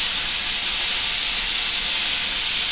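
Yardlong beans and potatoes fry in a pan, giving off a steady, even hiss of oil that holds unchanged from start to finish, close and fairly loud with no voices.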